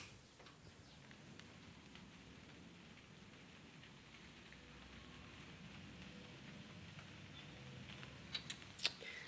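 Light rain falls steadily outside, a soft continuous patter with scattered drip ticks, growing a little louder toward the end with a few sharper clicks.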